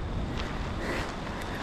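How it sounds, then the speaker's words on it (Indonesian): Rain falls at dusk near a steep roadside cliff on the way to Leuwikeris dam, a dense broadband hiss close to the microphone, mixed with gusty wind buffeting. "Hujan."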